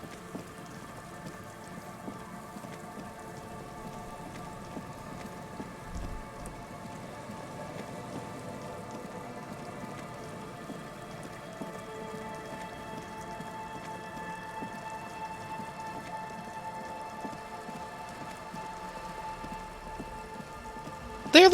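Steady rain falls in the video game Disco Elysium, a soft continuous patter with faint tonal hums underneath, holding evenly throughout and ending in a brief louder burst.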